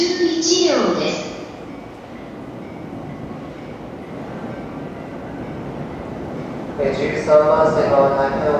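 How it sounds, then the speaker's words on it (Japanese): The Hokutosei sleeper express bound for Sapporo rumbling into Ueno Station in Tokyo at moderate distance, with a descending tone at the start and a brief chime-like announcement tone near the end. "北斗星札幌行きが参ります。"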